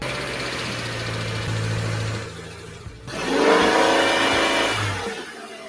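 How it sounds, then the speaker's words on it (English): Car engine running at an online dealer auction listing flagged for an engine accessory issue, a steady mid-pitched hum that rises briefly in revs partway through, loud and close with no talk. "It did say an engine accessory issue, but I'm gonna let you guys listen in on the audio really quick."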